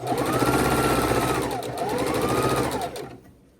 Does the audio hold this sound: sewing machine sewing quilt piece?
yes